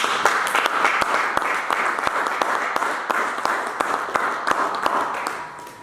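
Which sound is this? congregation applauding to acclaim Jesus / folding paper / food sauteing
congregation applauding to acclaim Jesus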